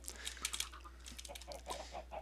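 Chickens cluck in the Minecraft video game, a string of short clucks and squawks over a steady low hum, moderately loud with no talk.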